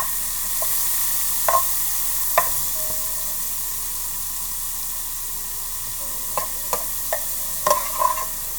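Onions and bacon frying in a pan give a steady soft sizzle and hiss throughout, broken by scattered light clicks and scrapes of stirring, heard close with no speech.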